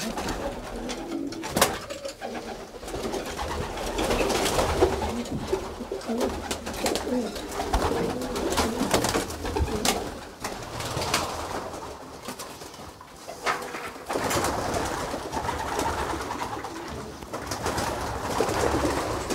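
Racing pigeons coo steadily and close by in a loft before release, a dense layered murmur of calls with occasional wing flutters and clatter.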